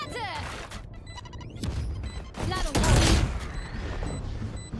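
Grenade blast in the shooter Valorant: a loud booming burst with crashing debris near the middle, set among clicks, electronic beeps and other game effects.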